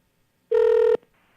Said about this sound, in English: you're not picking up your phone, boy